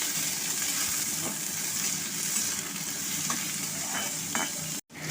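Chopped onion frying in soybean oil after dried red chili has been tempered, a steady close sizzle with light stirring scrapes throughout, no voices, cut off abruptly near the end.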